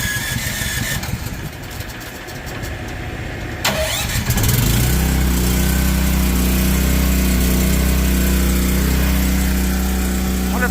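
A small gas engine with fuel and choke on catches after a few seconds of quiet shuffling, then settles into a loud, steady idle close by until the end.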